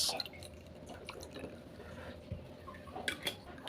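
A relaxing drink is poured over ice in a glass: faint, close trickling and dripping with small ticks of ice, steady and quiet, with sharper clinks near the end and no voices.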